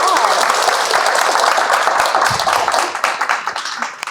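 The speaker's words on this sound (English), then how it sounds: "can we give Maryssa another round of applause?" An audience applauds the speaker after a talk on bacteria and climate change, a dense burst of clapping that starts loud and thins into scattered claps near the end.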